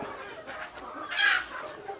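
Native chickens, including a mullan hen, clucking and calling at a poultry farm, a steady busy chatter with one louder squawk midway.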